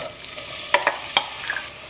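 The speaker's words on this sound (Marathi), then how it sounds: "अनियन आम्ही सॉटे करूया सॉफ्ट जावसर" Onions sauté in hot oil with a light, close sizzle, while a few quick clinks and scrapes of a spoon against the pan cut through.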